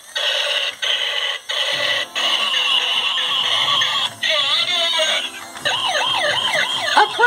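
A police car robot toy sounds an electronic siren, first a pulsing beeping tone, then a rapid warble and a wailing sweep, loud and close with no talk.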